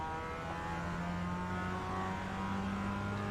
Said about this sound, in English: putting throttle to the fullest